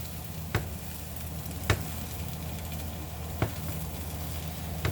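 Kimchi fried rice with a splash of kimchi juice sizzles steadily in a hot pan while it is stirred, with a few sharp scrapes and knocks of the utensil against the pan.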